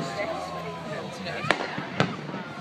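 Fireworks over Lotus Lake in Waterford, two sharp distant bangs a half second apart over a low crackling rumble, with people talking nearby.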